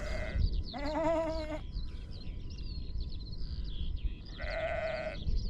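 Sheep bleating outdoors on Godley Head near Christchurch, New Zealand, two loud wavering bleats a few seconds apart over steady wind noise, with faint bird calls between them.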